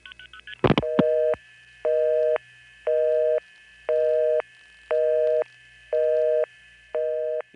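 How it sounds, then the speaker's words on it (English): A telephone busy tone carried over a long-distance wireline trunk, a clean steady tone pulsing on and off in an even rhythm about seven times, preceded by a few short clicks and bursts of signalling. "We have our own pair of wires where the purity of the busy tone just comes right through."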